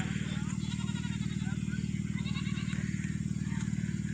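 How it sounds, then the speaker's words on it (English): Goats bleat in a wavering chorus over a constant low droning hum, fairly close and continuous. "Goats."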